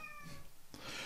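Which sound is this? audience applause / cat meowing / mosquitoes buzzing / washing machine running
cat meowing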